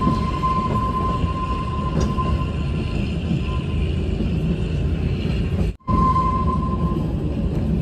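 Steady loud rumble of a moving train heard from inside a closed-window passenger carriage on the Kalka–Shimla route in Himachal Pradesh, with a faint whine and a brief sudden drop in noise.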